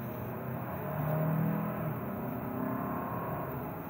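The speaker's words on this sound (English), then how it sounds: "if I mash on the gas" A 2025 Hyundai Santa Fe Calligraphy SUV accelerates from inside the cabin, its engine a low, muted hum that swells briefly and then holds steady under a soft road drone.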